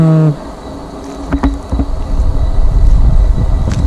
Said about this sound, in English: Pollinators have been very busy this summer.